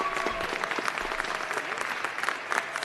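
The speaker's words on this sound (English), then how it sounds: "So I want everybody to give this councilwoman a big round of applause because she has fought the good fight." Audience applause for a councilwoman at a city council meeting, dense steady clapping from a moderate crowd at a distance, with a few voices briefly audible over it.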